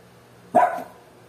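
A single short dog bark, fairly close, over quiet background hum.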